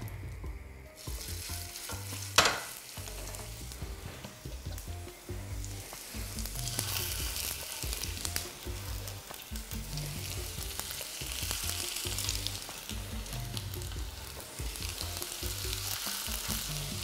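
Vegetable-stuffed crepes fry in oil in a pan, a continuous close sizzle and crackle with faint stirring and scraping, steady throughout with no voices.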